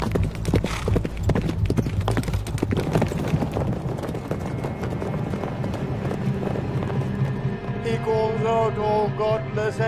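Galloping horse hooves from a sound effect, a dense run of clip-clop beats, loud and continuous, under a layer of music with a sustained tonal bed and rising melodic figures toward the end.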